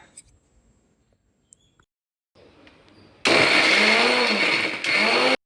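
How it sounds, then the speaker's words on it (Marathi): A mixer grinder whirs loud and steady as it blends raw mango chutney with chilli, salt and cumin. It starts abruptly after a few quiet taps and a faint hum, and a brief dip comes near the end. "मिक्सरला लावून फिरून घेऊया"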